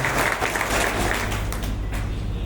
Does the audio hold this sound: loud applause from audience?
yes